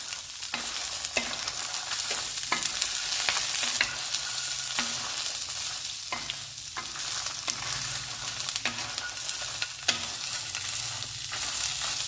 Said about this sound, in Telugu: కొబ్బరిని కూడా వేయించుకుందాం